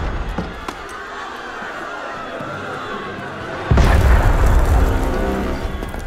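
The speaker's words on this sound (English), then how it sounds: "That was cannon fire." Cannon fire in the game Assassin's Creed Unity: a sudden loud deep boom at about 3.7 seconds that rolls on as a heavy low rumble, following a quieter stretch of murky ambience.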